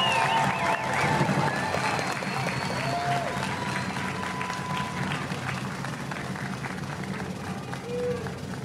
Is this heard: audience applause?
yes